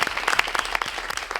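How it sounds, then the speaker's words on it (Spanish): Short burst of steady applause from a studio audience at the close of a Spanish-language talk podcast, dense overlapping claps at moderate volume with no voices over it. "Os damos un aplauso"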